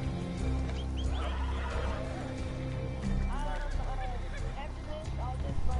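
Horse whinnying in Red Dead Redemption 2 after being shot, a couple of rising neighs amid game ambience and hoof sounds, with a player talking over it.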